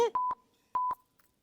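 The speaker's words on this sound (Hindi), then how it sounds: "हम कमिश्नर को फोन लगाएंगे बस।" A telephone number is punched in on a keypad in a comedy skit set at a police station, giving four clear touch-tone beeps in two quick pairs with a gap between them, close and clean with no talk over them.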